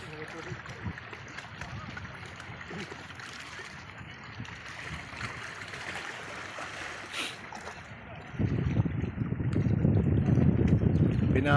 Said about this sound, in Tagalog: Alon, taas ang tubig ano.